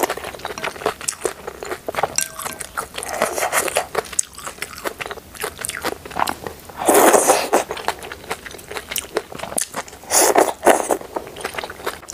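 Five-grain duck feet being eaten up close, giving repeated crunchy bites, scraping and chewing in irregular bursts, with louder crunches near the middle and end and no speech.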